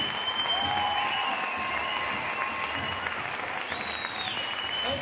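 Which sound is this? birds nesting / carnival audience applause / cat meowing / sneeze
carnival audience applause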